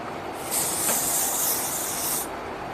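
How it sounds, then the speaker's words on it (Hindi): A steady hiss of hairspray from an aerosol can, one continuous burst lasting nearly two seconds, close by, with no talking. "hard spray"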